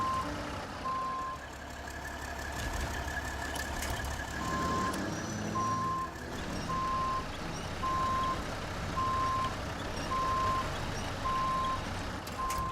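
Regular reversing beeps from a truck in a Quebec driving game, repeating steadily over a continuous low engine rumble and scattered clatter, fairly loud and clear throughout.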